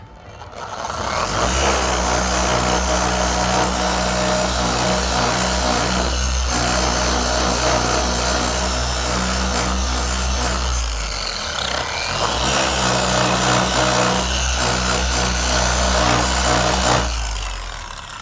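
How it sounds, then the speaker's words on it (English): A power buffer polishes an Integra headlight with a loud, steady whirring motor drone that runs close up, dips briefly near the middle, then spins back up for a second long pass. "Just get buffing. Slowly use a lower speed just to spread around that headlight."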